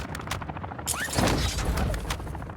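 Rapid gunfire bursts in Call of Duty Warzone DMZ, clustered shots with a sharp whizzing sound and a boom-like impact, loud over constant game background noise.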